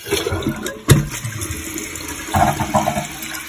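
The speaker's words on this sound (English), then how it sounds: "Flush it." A TOTO toilet that keeps running is flushed. A sharp clunk of the handle is followed by gushing, rushing water that continues steadily close by.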